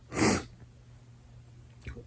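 A single sharp sneeze bursts out near the start, followed by quiet room tone and a faint breath or sniff toward the end.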